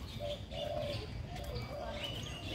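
Pigeons or doves coo softly in a bird park at Taman Mini Indonesia Indah, with short low calls repeating over a steady murmur of background noise and light chirps higher up.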